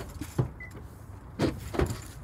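Rear Stow and Go seat of a 2022 Kia Carnival EX minivan folding away into the floor, heard as a few quick, close mechanical clunks and rattles spread over two seconds, with no talking.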